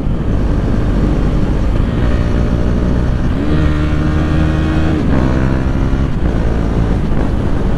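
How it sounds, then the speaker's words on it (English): A motorcycle engine runs loud and steady under heavy wind noise, with a few quick throttle blips that push the revs up and back down for clutchless downshifts. "keep the throttle slightly open, and when you want to downshift,"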